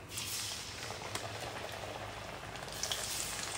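Bottle gourd fritters fry in hot oil, a steady close crackle and sizzle with scattered sharper pops, soft and continuous throughout.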